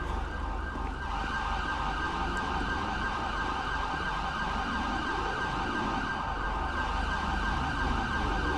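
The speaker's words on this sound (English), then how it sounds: "Ambulance is on the way, sir." An ambulance siren in GTA 5 wails in a steady, repeating up-and-down cycle over a low vehicle rumble, moderately distant and continuous throughout.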